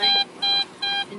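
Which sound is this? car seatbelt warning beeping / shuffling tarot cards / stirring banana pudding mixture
car seatbelt warning beeping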